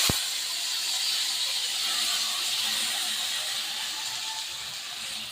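Cut tomatoes dropped into a pan with a little hot oil give a sharp initial hit, then a steady, fairly loud hiss of sizzling that runs on evenly without talk.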